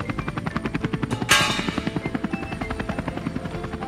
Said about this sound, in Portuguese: O helicóptero está carregando uma rampa.